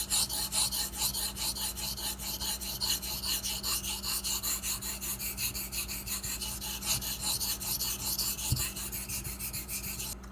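A Ganzo knife being convex-resharpened on a whetstone with the blade held perpendicular, giving a steady rhythm of rapid back-and-forth scraping strokes, close and continuous, with one soft knock near the end and no talking.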